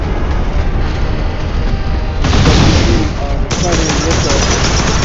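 Strike fighter jet cannon in a video game fires in sustained bursts, a dense, loud, continuous rattling roar that shifts intensity partway through, with no talk over it.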